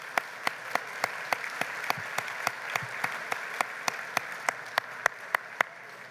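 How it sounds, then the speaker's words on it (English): Audience applause for Troop 137's opening ceremony at a Scouting patron luncheon, a steady moderate wash of many hands clapping with sharp periodic claps standing out, no talking. "Please give them another round of applause."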